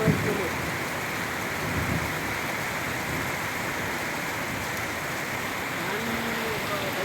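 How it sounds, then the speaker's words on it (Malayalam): Heavy rain in Pathanapuram pours steadily, a dense continuous hiss with no break, loud and close. "പത്തനാപുരത്തെ മഴ"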